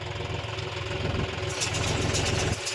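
A John Deere 5050D 4x4 tractor engine idles just after starting, a steady low chugging drone heard up close, with a brighter rattling texture creeping in midway.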